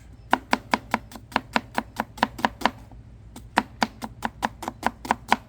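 A knife julienning an onion on a cutting board: a run of quick, evenly spaced chopping knocks, a short pause near the middle, then another steady series, close and crisp.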